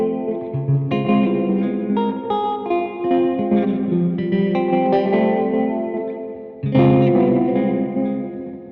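An electric guitar played through a Champion Leccy Skitter reverb pedal with its light control set to the middle, sustained chords and notes ringing into a wash of reverb, loud and close with no talking.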